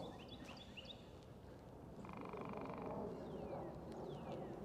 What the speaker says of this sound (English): It kind of sounds like a frog, but that's a woodpecker, because the sound is coming from like way up here.